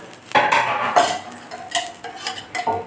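Oil poured into and spread around a paniyaram pan for a ragi and drumstick-leaf tiffin, close metallic scrapes and clinks with a soft sizzle, several short bursts over about three seconds and no speech.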